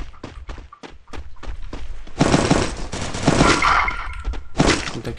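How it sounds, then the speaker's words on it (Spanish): Rapid bursts of gunfire in a Free Fire battle, loud and close, with sharp repeated shots clustering into dense volleys and brief gaps between them, no talking over it. "aquí me está disparando"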